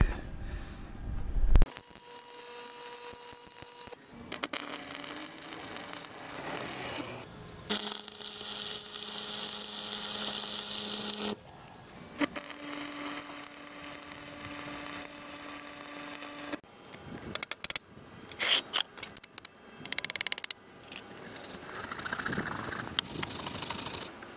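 Arc welding a bead on steel for a forged knife, heard as steady buzzing, crackling runs of several seconds each, separated by brief pauses, loud and close with no talking.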